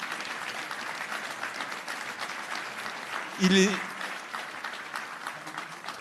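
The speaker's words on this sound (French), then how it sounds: "Oui, je pense qu'on peut l'applaudir." Steady crowd applause at a conference panel on the future of Afghanistan, continuous and moderately close, with a brief spoken word rising over the clapping midway.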